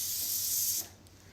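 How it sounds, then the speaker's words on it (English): A single steady hiss of cooking spray misted onto wax paper, close and fairly loud, lasting under a second before cutting off into quiet. "Spray it with a little bit of cooking spray"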